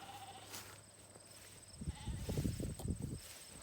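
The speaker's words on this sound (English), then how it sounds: "All the sheep are coming back" Sheep bleat on a farm during chores around bottle lambs, a drawn-out call first, then several overlapping bleats from the flock nearby, moderately loud with some shuffling.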